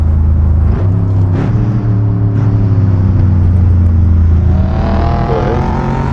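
Engine of a Mercedes W213 E63S Estate in the racing game Assetto Corsa, cruising on the Bikernieki circuit: a loud, deep steady drone with revs rising and falling, short shifts and a whining climb near the end.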